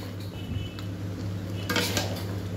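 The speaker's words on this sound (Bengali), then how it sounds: "দিয়ে ভালো করে নাড়াচাড়া করে মিশিয়ে নিচ্ছি" Potatoes are stirred and mixed in a pan, with a metal utensil scraping and clinking against the cookware over a steady low kitchen hum; the scraping grows louder near the end.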